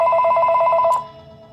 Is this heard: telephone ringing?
yes